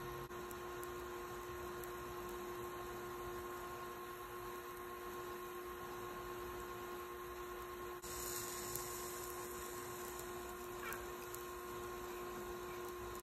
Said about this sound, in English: and then up the power. And here's some metal heating up there.